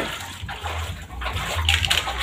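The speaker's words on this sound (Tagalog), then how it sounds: "Ayan po yung tubig." Floodwater sloshes and rushes close by in a flooded home, a continuous churning wash of water with uneven surges.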